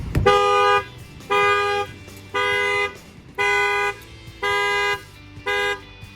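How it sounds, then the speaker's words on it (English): A car alarm honks in a steady repeating pattern, six loud horn blasts of roughly equal length with short gaps between them. "I'm gonna go ahead and bang on the wheel, and that should trigger the alarm."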